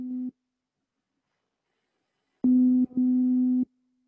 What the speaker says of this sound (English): when I play a note on the synth, like I'll play middle C on the synth